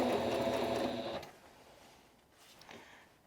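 A sewing machine stitches a quarter-inch seam on a cushion, a fast, steady mechanical whir for about a second before it stops, leaving quiet shuffling of fabric.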